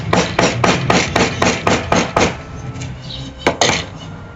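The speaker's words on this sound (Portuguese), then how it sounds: "Para esculpir madeira, outra ferramenta muito usada é o formão, tá?" A wood chisel is driven into wood by a quick, even series of about nine sharp, close knocks as chips are carved off, then a pause and two more blows.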